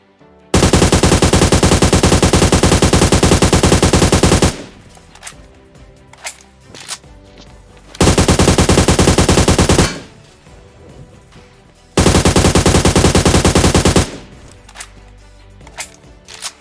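Bursts of automatic gunfire from the PUBG Mobile video game, three long loud volleys of rapid shots separated by quieter pauses with scattered smaller game sounds.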